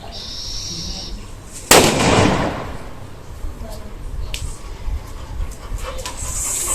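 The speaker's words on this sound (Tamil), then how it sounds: "லட்சுமி வெடி அடிக்க போகிறோம் அப்போ எவ்வளோ சவுண்ட் வருது வெடிக்கு தான் பார்ப்போம்" One sharp, loud Lakshmi firecracker explosion that rolls into a decaying rumble, heard outdoors with faint background noise before and after; the firecracker is old.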